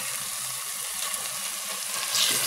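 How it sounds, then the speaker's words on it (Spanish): Aderezo seasoning paste for Peruvian carapulcra sizzles steadily in a hot pan as it is stirred, a constant close frying hiss with no talk. "Seguimos moviendo hasta que el aderezo esté frito."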